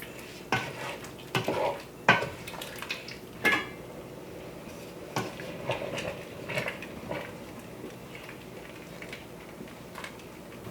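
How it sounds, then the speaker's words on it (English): A spoon clanks and scrapes against a pot while broccoli cooks for cheese soup, with irregular close metallic knocks over a quiet, faint sizzle. "add in my broccoli first and let this cook for just a minute before I add in my cheese. And give this a really good stir."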